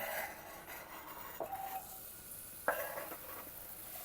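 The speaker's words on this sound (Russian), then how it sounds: "Здесь у нас перец сладкий, кому-то хочется горький, имбирь и чесночок. Отправляем на сковородочку." Sweet pepper, ginger and garlic go into a hot frying pan, giving a quiet sizzle with a few sharp clinks and scrapes of a utensil stirring against the pan.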